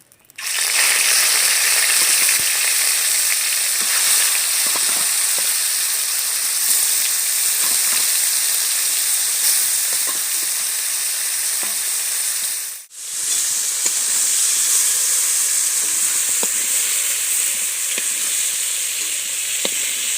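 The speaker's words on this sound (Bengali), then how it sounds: "বাকি মাছগুলো আমি একই রকম করে ভেজে নেব।" Kuche fish (freshwater eel) frying in hot oil, a loud, steady, close sizzle with a brief dip partway through before it resumes at full strength.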